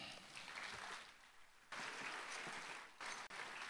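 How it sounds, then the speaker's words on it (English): Audience applause at a junior high school graduation ceremony in Dubai, a full, continuous roar of clapping that dips briefly, then surges back, ending with a sudden cut. "Round of applause,"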